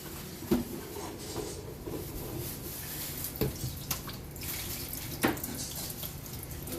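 Excess liquid is poured off into a sink, a steady watery trickle and splash with a few sharp clunks of a container against the basin.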